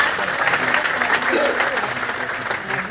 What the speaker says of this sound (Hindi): एक बार इस पेस्ट के लिए जोरदार तालियां बजा दीजिए